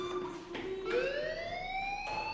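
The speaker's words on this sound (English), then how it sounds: "do you hear that fire alarm?" Fire alarm blaring in a video game, a loud tonal wail with stacked harmonics whose pitch slowly rises and holds, sounding continuously throughout with no talking over it.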